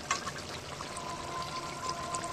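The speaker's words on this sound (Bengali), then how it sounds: "এবার আমি এই পাত্রটা ঢেলে নিই।" Cooked fish curry is tipped out of a pot in one brief, quiet, continuous pour at close range, with no voices.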